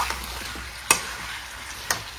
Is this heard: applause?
no